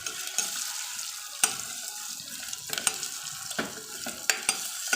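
Asafoetida tempering for a spinach and raw mango dal sizzling in a pan, a faint, steady frying hiss broken by scattered sharp clicks and stirring knocks, with no voices.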